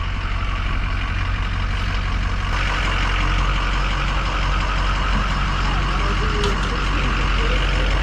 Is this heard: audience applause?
no